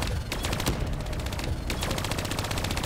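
Rapid turret machine-gun fire in Call of Duty Black Ops 3, a dense, loud, unbroken stream of close shots rattling for the full few seconds.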